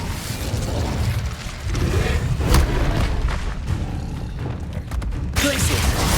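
Incendio fire spell cast in Hogwarts Legacy, a loud rumbling whoosh of flame with heavy low booms and bursts, dense and continuous, layered over game ambience.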